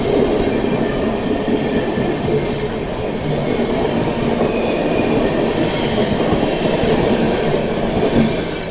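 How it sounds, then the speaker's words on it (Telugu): The Gautami Express, a passenger train running from Kakinada Port to Lingampalli, rumbles along loudly and steadily, with a rolling clatter of wheels on the rails heard from close by, likely from inside a coach. "కాకినాడ పోర్ట్ నుంచి లింగంపల్లి వెళ్ళే గౌతమి ఎక్స్ప్రెస్ ట్రైన్"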